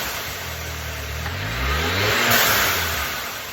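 Audi A3 turbo engine with a diverter valve spacer revs up close by, its pitch rising and falling in a swelling sweep over steady turbo whoosh, with no talk.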